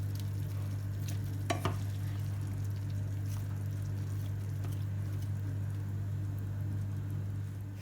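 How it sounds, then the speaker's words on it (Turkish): Steady sizzling of meat sauté with chopped peppers frying in a pan, with occasional scraping from stirring, continuous and fairly close, with a low hum underneath. "et sotemi karıştırıyorum."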